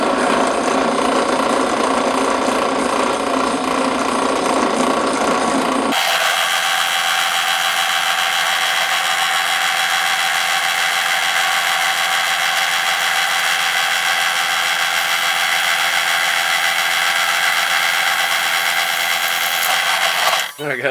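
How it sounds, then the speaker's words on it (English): A drill press bores an engine mount hole for a scale diesel engine on a rat rod, a loud steady mechanical whir with grinding, ratcheting texture that runs continuously for about fifteen seconds after a brief startup and then stops. "We'll drill it out in the drill press"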